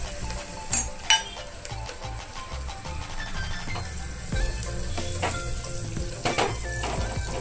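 Asafoetida, ginger, garlic and chillies fry in hot oil for a cracked-wheat khichdi, a close, lively sizzle with a couple of sharp metallic clinks and stirring scrapes.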